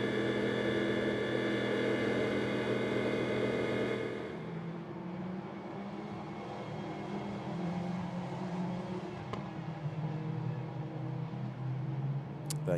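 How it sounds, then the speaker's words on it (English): Lamborghini Super Trofeo race cars go through turn 1 at Barcelona, their engines a loud sustained roar that drops to a lower, more distant drone. "There you've got the cars going through turn 1."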